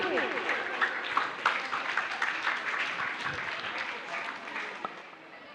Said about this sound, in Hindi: तालियों के साथ उनका स्वागत करेंगे एकदम धूमधाम से